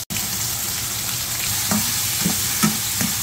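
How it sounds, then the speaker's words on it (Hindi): Tomatoes frying in hot ghee in a home kitchen, a steady close sizzle with a few soft scraping stirs of the spoon at regular intervals, no talking. "सब टमाटर मैंने उसमें डाले हैं घी में, और इसमें अभी आलू और मिर्चें मैं डालूँगा।"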